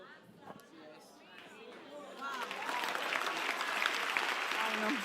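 A church congregation claps, starting as scattered chatter and voices, then swells into loud, sustained applause that fills the room for the last few seconds.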